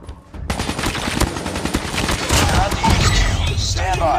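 Call of Duty Mobile sentry gun firing after a sudden onset, loud rapid automatic bursts that run continuously through a hectic multiplayer firefight on a new map, under other game sounds.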